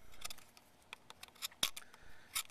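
Scissors snipping along a marked line on paper, a few short crisp cuts spaced irregularly, close and fairly quiet.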